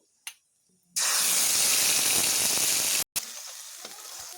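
Ground spice paste hits hot oil in a pan with a sudden loud, roaring sizzle that holds steady for about two seconds, cuts out briefly, then settles into a quieter crackle.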